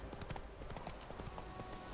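Horse hooves clip-clop in The Witcher 3 video game, a steady quick trotting rhythm of many hoofbeats throughout, fairly quiet and unbroken.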